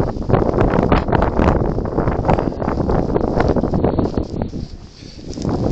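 Wind blows steadily across an outdoor vigil, a loud broadband rushing and buffeting on the microphone that fills the whole stretch and dips slightly near the end.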